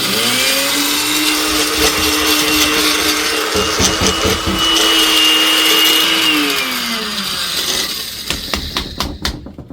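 A grinder loudly crushes turkey bones in a steady, whirring roar that carries on for several seconds, then winds down and ends in rattling knocks and clatter.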